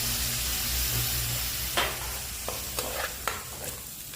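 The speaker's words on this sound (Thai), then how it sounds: "เอาหมูลงไปรวนเลยนะคะ" Minced pork stir-fried in a pan, a steady low sizzle broken by several sharp scraping clinks of a spatula against the pan, fairly close with no talking.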